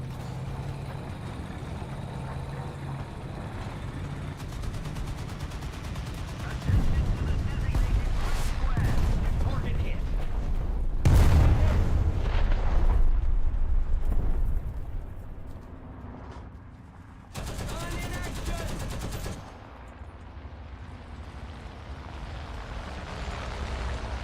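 Artillery and anti-aircraft guns firing in a multiplayer combat video game, a steady roar of gunfire and heavy blasts that swells into dense bursts mid-clip, with a voice speaking faintly underneath.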